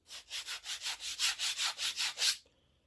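Close, steady sanding of a wooden reproduction Revolutionary War cartridge box: about a dozen even back-and-forth rasping strokes in a regular rhythm, then the sound stops abruptly.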